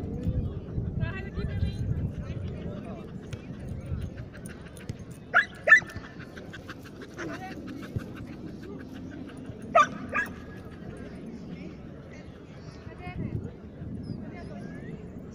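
Dogs whimper and yip with a few sharp barks mixed in, heard under ongoing talk and light background noise.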